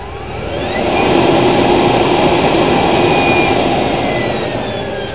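A variable-speed blower, controlled by a speed regulator, feeds intake air to a gasifier, giving a steady, loud broadband whoosh with a high whine that rises in the first second and then holds.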